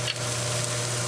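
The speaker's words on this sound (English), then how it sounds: "cooking for 2 minutes. The onions are changing color." Onions frying in a pan for a home-grown spinach and potato sabzi, a brief soft steady sizzle heard alone at low level.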